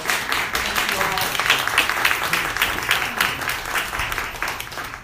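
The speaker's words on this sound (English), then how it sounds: "Please help me give our guests a round of applause." Guests at a celebration receive sustained audience applause, a dense, steady wash of clapping from a room full of people, with voices talking beneath it.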